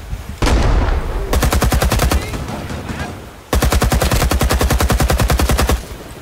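Automatic and rapid gunfire in the Vietnam War shooter Rising Storm 2: Vietnam, two long loud bursts of evenly spaced shots with a short pause between them, close and dominant with no talking.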